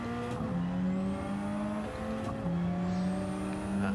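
A Radical race car in Gran Turismo 7 on the Deep Forest circuit: a loud, steady engine drone with a harmonic whine that dips and climbs through gear shifts, with faint tire noise underneath.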